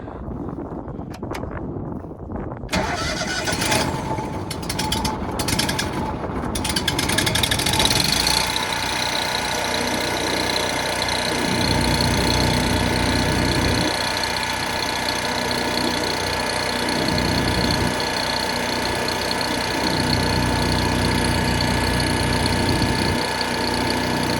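A welder generator's engine settles into idle mode, a steady, fairly loud mechanical drone that holds level for about sixteen seconds after some scattered clatter and shifting at the start.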